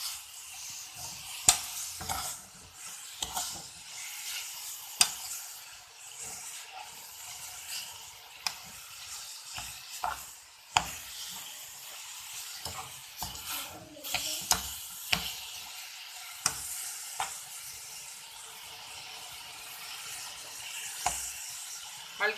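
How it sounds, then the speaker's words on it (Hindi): Chopped apple and sugar for jam are stirred in a pan over low heat, a soft continuous sizzle broken by irregular spoon scrapes and taps on the pan, close and fairly quiet. "साथ इसमें चीनी ऐड कर दी। इसको मिक्स कर लें।"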